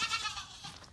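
Goats bleat close together inside a barn on a snowy day in South Carolina, a brief overlapping cry of nearby animals.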